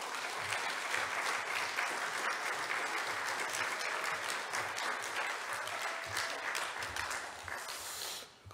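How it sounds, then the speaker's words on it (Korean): Church congregation at a Sunday service applauding as a missionary comes forward, sustained even clapping from a large crowd over several seconds, fading slightly at the end. "나오실 때 큰 박수 부탁드립니다"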